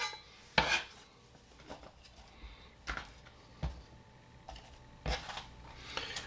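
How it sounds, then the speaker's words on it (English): A knife chops fresh ginger on a cutting board in a home kitchen, several separate sharp knocks spaced unevenly, close and fairly loud, with no talking. "we just have to cut it up enough for the blender"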